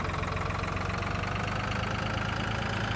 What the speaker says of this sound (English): This is a tractor which we're gonna replace